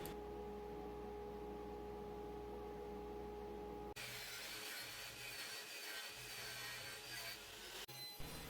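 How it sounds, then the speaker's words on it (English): A saw makes miter cuts in plywood: a motor hum gives way to a bright, sustained cutting roar that runs several seconds, then briefly changes at the end, with no voices over it. "now I'm ready for those miter cuts"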